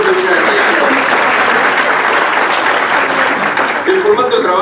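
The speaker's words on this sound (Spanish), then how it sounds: "aplauso también para vos" An audience at a conference panel on reputational risk breaks into dense, sustained applause that fills the room evenly throughout, loud and continuous with no voices standing out.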